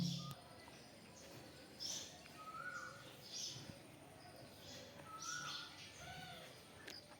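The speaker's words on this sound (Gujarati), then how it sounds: "પોપટ કબૂતર બધા છત્રી ઉપર ઉતરી ઉતરી બધા દાણા ખાવા આવી રહ્યા છે" Parrots and pigeons gather on a canopy at a Khodiyar Mata temple in Vejalka village to eat scattered grain, making faint, scattered chirps and short calls against soft distant background noise.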